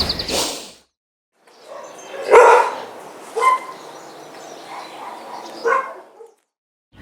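A clever, willing-to-learn pet dog barks a few times, with a sharp loud bark near the middle and fainter yips around it, alone and fairly close with no talking.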